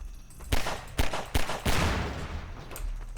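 Video-game gunfire shooting out logs, a few sharp shots in quick succession, loud and close, followed by a dense crackling burst.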